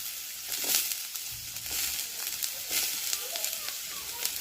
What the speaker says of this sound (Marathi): आपण याला थोडंसं परतवून घेऊया जोपर्यंत हे शिजत नाही